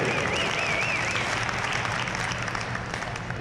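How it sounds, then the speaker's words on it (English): An audience applauding at a gymnastics conference championship, steady dense clapping throughout, with a faint whistle early on. "Give Jared a round of applause."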